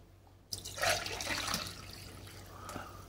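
Water is poured from a container into a measuring jar in a kitchen, a steady splashing gush starting abruptly and then tapering to a lighter trickle, close by with no talking.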